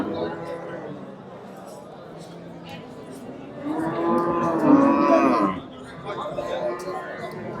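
A cow lows loudly and close by at a cattle market in Chiroqchi, Kashkadarya, with a long, deep moo rising midway over a murmur of people talking nearby.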